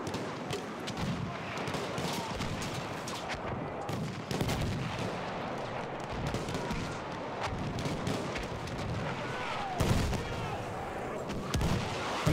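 Incoming mortar fire booms amid dense, continuous battlefield chaos in the video game Battlefield 1, with gunfire and explosions layered throughout and a loud blast near the end.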